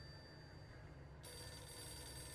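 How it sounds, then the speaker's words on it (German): A telephone rings in the video game Max Payne, a bright electronic bell tone that starts partway through over a quiet, low background rumble and carries on to the end. "Gehen erstmal ans Telefon."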